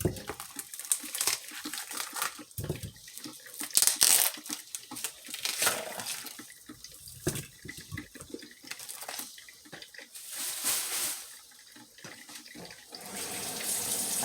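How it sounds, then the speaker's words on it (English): Cold water runs from a kitchen tap into a bowl in a continuous splashing stream, with crinkling packaging sounds and handling of chicken drumsticks mixed in, at moderate level and close by. "I put cold water in here."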